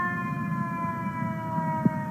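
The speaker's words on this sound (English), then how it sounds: "turns on its lights and siren" An ambulance siren wails steadily on a road, a sustained tonal whine held over low traffic rumble, with one brief thump near the end.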